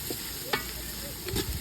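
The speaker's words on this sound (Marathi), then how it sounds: "तुम्ही बघू शकता कांदा मस्त फ्राय करणं चालू आहे." Sliced onions fry in a pan over a high flame, giving a continuous close sizzle with a couple of sharp utensil clinks and scrapes.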